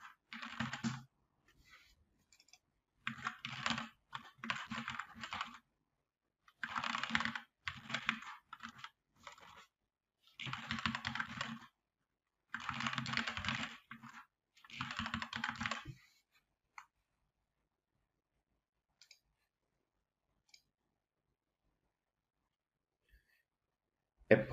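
Computer keyboard typing while a registration form is filled in, close and crisp, coming in several separate bursts of rapid keystrokes with short pauses between them, then silence for the last third.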